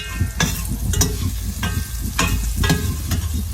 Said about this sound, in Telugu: ఆయిల్ వేసి పచ్చిమిర్చి, కొత్తిమీర, కరివేపాకు, పసుపు, అల్లిమిల్లిపాయ వేసేసాను.